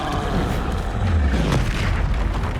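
The Bombarda spell goes off in the video game Hogwarts Legacy as a loud, dense explosive boom. A deep rumble and crackle fill the short burst, with no talk over it.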